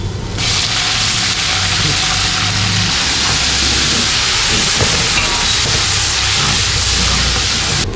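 Garlic paste lands on browned onions in a hot pan while a biryani is cooked outdoors on a street, setting off a loud, sustained sizzling hiss that holds steady throughout.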